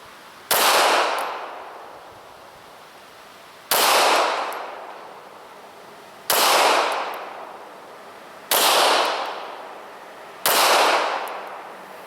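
Five single pistol shots from a Smith & Wesson M&P fitted with a brand-new barrel, each a sharp loud crack with a short decaying echo, spaced a few seconds apart.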